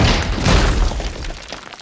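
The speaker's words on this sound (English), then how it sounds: "here's the clip of Hulk smashing Loki." A loud, dense crashing smash from a movie scene of the Hulk slamming Loki, a broad booming impact and debris clatter filling the moment, then fading out.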